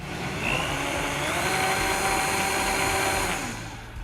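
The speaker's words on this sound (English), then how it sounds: "Okay, keep blending." A blender whirs steadily as it purees a thick roasted red pepper vegetable soup, a loud, close motor drone with a churning texture that holds even and then winds down at the end, with no talking.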